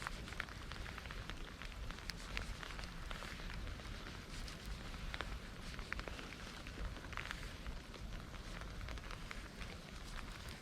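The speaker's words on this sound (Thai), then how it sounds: "ฝนตกแล้ว" Rain patters steadily and faintly on a surface during a bass fishing trip, a soft continuous hiss with scattered drips and no talking.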